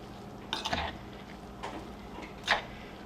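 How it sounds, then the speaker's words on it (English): Wet cornbread dressing is stirred in a mixing bowl, with three short scraping, squelching bursts of the spoon standing out from a quiet background and no talking. "You just keep stirring it. It's going to break up the cornbread."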